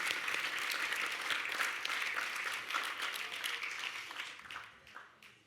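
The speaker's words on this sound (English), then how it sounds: "Please, another big round of applause for Auntie Terry Ann Stewart." An audience at an Aboriginal honour roll ceremony claps in sustained, dense applause that holds steady and then fades out toward the end.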